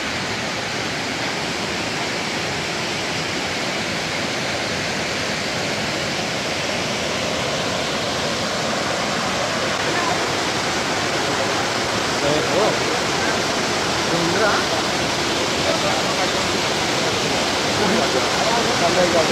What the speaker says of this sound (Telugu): వాటర్ ఫాల్ సౌండ్ వినిపిస్తుందా? వాటర్ ఫాల్ ఫ్లో గట్టిగా ఉంది.